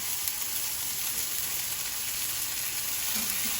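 Thin hamburger patties fry in a pan with a dense, even sizzle, loud and constant throughout, no talk over it.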